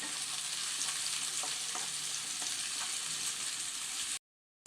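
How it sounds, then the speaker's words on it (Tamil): Onion and tomato sautéing in a pan for vendakkai pachadi give a loud, steady hiss of frying with faint stirring taps. The sound stops abruptly just before the end. "இதையும் சேர்த்து நல்லா வதக்கிக்கலாம்"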